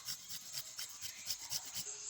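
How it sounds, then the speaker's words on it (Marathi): Fresh coconut is grated by hand over a thick, masala-topped patwadi dough for a banana-leaf dish. About eight soft, rhythmic rasping strokes sound close by and quiet, with no voices. "यावर खोबरं किसून घेऊ."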